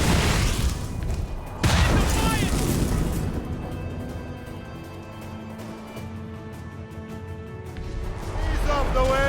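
Cannon fire in a naval video game: several loud booms and crashing bursts, one sharp blast standing out, mixed with shouted crew voices and battle noise.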